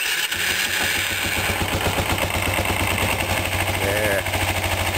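A Kawasaki Ninja 250 with its fuel tank removed and pod air filters fitted idles close by, a steady, rapid mechanical chug that carries evenly throughout.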